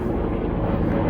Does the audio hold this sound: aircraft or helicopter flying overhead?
yes